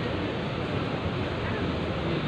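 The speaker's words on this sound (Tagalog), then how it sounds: "Mahangin." Steady seaside wind at Baclaran buffets the microphone in a broad, continuous roar, with faint surf-like wash mixed in and no distinct events.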